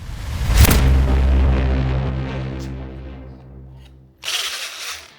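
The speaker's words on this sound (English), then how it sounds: "I drilled some holes in the yogurt cup bamboo plant holders" Holes being drilled into plastic yogurt cups used as bamboo plant holders, a close, loud power drill whine that fades over several seconds, followed by a brief burst of noisy rasping at the end.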